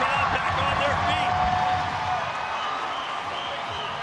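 Arena crowd at the Pacquiao vs Matthysse boxing match cheers and applauds, a steady roar of clapping and shouting under a commentator talking over it.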